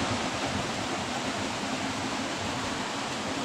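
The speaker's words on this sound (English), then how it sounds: "But look at those waters, waterfalls and everything." Steady, dense rush of water from waterfalls along a river, a continuous broadband roar at constant loudness with no voices over it.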